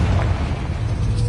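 A Confringo fire spell blast in a Hogwarts video game, a loud booming explosion with deep rumbling that fills the whole short moment without any break.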